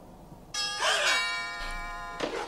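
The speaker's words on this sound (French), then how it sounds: "Oh là là, ça fait peur, une sonnerie." A synth doorbell rings from the horror film Halloween 5 (1989): a loud bright chime with ringing overtones, then two fainter repeats as the tones fade out.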